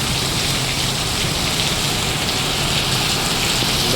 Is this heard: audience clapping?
no